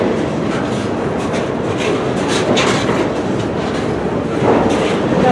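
CSX freight train cars, including Sealand intermodal cars, roll past nearby in a continuous loud rumble with rhythmic wheel clatter.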